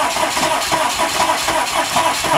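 Diesel engine of a Chevy C2500 truck cranking and starting on a cold morning, a loud, steady, close mechanical roar that pulses rhythmically throughout with no voices.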